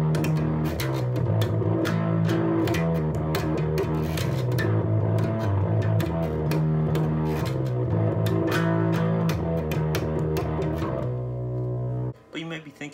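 Bass guitar played through a Morley 20/20 Power Fuzz Wah, heard as a loud, thick, distorted riff of sustained fuzzy notes with rhythmic picking, alone for about twelve seconds before cutting off.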